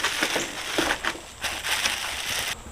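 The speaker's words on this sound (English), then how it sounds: "Pull it out the box," Crinkly plastic and cardboard rustling as a new accent light for a 2022 Polaris RZR Pro XP Sport is pulled from its box and unwrapped, a close, irregular series of crackles and crumples with no speech.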